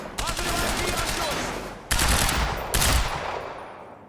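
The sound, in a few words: rapid gunfire from a fast weapon in the video game Quantum Break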